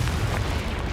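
A Confringo spell bursts in the Hogwarts Legacy video game with a short, muffled, booming blast that fills the brief moment with low rumble.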